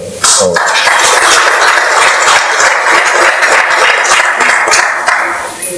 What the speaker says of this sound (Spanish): así que les pido para él un fuerte aplauso